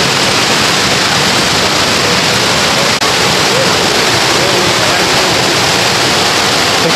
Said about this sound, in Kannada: ನೀರು ಹರಿತಿರೋ ಸೌಂಡ್ ಕೇಳಿಸ್ತಿದೆ.